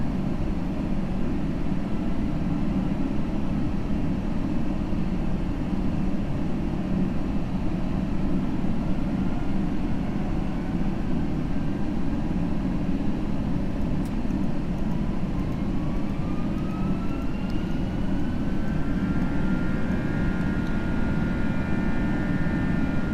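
The engines of an FSLabs A320 hum in the Prepar3d flight simulator, a steady loud broadband roar with a faint whine rising in pitch toward the end; no speech.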